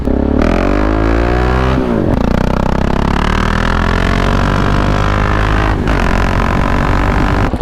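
A KTM 790 motorcycle revs hard in loud, close bursts, its engine note climbing and falling between throttle blips, with sharp stock exhaust pops and crackles cutting through on the overrun.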